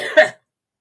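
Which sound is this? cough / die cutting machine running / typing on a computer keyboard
cough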